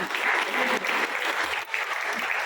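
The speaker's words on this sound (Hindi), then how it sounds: "आपकी जोरदार तालियों के बीच में मैडम का स्वागत होना चाहिए।" An audience at an RCM motivational event applauding to welcome someone speaker onto the stage, in a dense, sustained roar of clapping with a brief dip midway.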